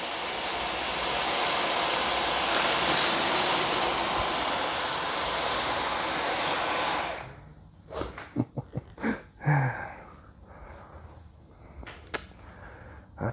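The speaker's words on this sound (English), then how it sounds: "the soft roller pulls in the dirt, and then the suction produced by the digital motor pulls it right into the bin" A Dyson Micro 1.5kg cordless vacuum with soft roller and digital motor roars loudly and steadily while picking up large debris, then cuts off abruptly, leaving scattered knocks and handling clatter.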